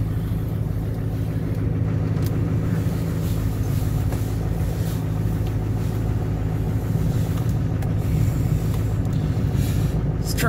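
A 2006 Duramax LBZ diesel pickup idles after a cold start, a steady, loud low rumble with constant clatter and no talk throughout.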